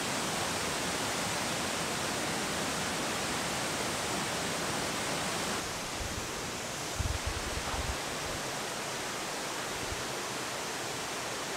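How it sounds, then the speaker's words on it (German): A hidden waterfall roars as a steady, loud, dense rush of falling water that fills the whole scene, with a brief low thump partway through. "ich bin jetzt bei dem versteckten Wasserfall, eigentlich beim dritten Wasserfall"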